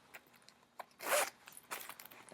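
The zipper on a small beanie-style yarn bag with a dolphin zipper pull being pulled open: a quick rasping zip, with a few lighter clicks and rustles of the bag around it, close and fairly quiet.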